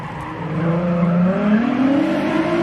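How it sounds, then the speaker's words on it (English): A turbocharged Nissan 350Z runs a gymkhana course, its engine droning and rising in pitch as it accelerates, with a tire-squeal edge, loud and fairly near. "Just wait till the turbo coughs and bangs."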